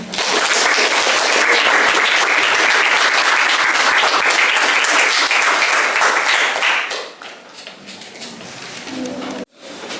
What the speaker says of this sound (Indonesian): Beri aplaus untuk para kandidat yang bisa menjawab pertanyaannya.